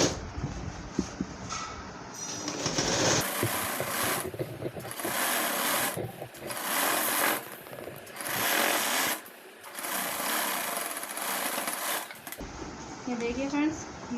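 A sewing machine runs a double line of stitching along a petticoat seam in long, loud bursts with brief pauses between them; a voice speaks over the whirring.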